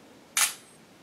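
Shutter of a Motorola Droid Razr HD phone camera taking an HDR photo, a single crisp synthetic click, close and fairly loud, in an otherwise quiet room.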